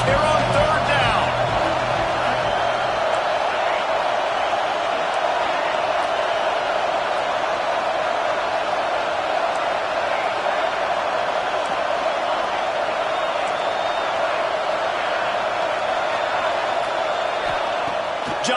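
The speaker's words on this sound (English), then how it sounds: "This Auburn crowd trying to conjure up a little magic here on third down." A large crowd roars steadily in an Auburn football stadium, a continuous dense wash of cheering and noise under a commentator's voice throughout.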